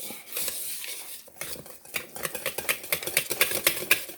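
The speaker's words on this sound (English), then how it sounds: "Now let's whisk it all up real good." A whisk beats pumpkin pie cheesecake filling in a bowl, rapid clicking metal strokes against the sides that start loose and build into a fast, steady rhythm, close up with no voices.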